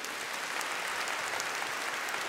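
A congregation gives a round of applause during a Catholic priest's talk, steady dense clapping filling the room for a couple of seconds with no voices over it.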